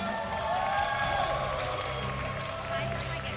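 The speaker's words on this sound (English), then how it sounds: "Give a round of applause to Team Lil Gun." Audience at the M5 World Championship esports event applauds Team Lil Gun, a steady dense wash of clapping and crowd noise filling the hall throughout.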